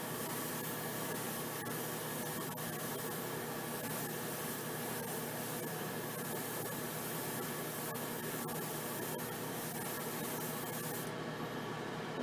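Steady hiss of lacquer paint being sprayed onto bare metal, continuous and even throughout, with a few faint clicks and a slight drop near the end.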